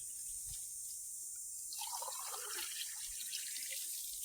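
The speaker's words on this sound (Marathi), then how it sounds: "आपण इथं पाणी टाकून दिलंय मित्रांनो याच्यामध्ये" Water is poured into a bowl set out for birds to drink, a soft, close trickle and splash that rises midway and then settles into light dribbling.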